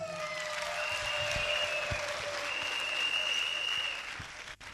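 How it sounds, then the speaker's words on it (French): Sustained applause from a seated audience at a French business training event fills the room, steady and dense for several seconds before tapering slightly at the end, with no voices above it. "ça peut s'applaudir"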